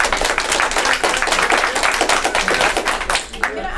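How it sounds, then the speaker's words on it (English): An audience at a city council committee meeting breaks into a dense burst of hand clapping, loud and close, with a voice talking over the clapping throughout. "I'm going to ask that you not clap, you not interrupt."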